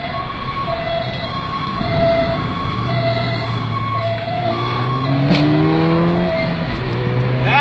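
A siren wails with rising and falling tones as an emergency vehicle approaches during a police car chase, joined by a revving engine that grows louder as it comes round, with no talk over it.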